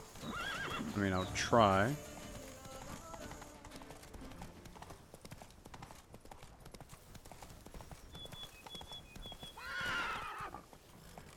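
Roach the horse from The Witcher 3 with rapid clip-clop hooves and a loud whinny early on, then quieter in-game ambience and a second neigh near the end, under brief talk.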